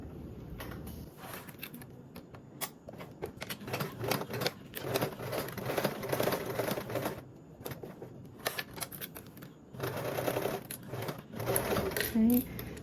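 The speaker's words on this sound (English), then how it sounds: "So I'm going to begin sewing on this curved part first, going in with that 3/8 of an inch seam allowance" A sewing machine stitches a curved seam on a small fabric Drac Pack mini bag at a 3/8 inch seam allowance, whirring in steady bursts that stop and restart, close and moderately loud.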